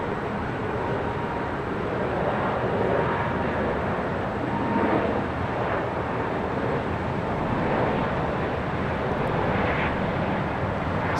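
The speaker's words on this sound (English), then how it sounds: "Spirit flight heading to Dallas, Fort Worth, Texas. Flight 1677, A320neo." A Spirit Airlines A320neo jet at Los Angeles International Airport produces a steady broadband roar that swells gently and holds throughout, a constant engine rumble with no voices.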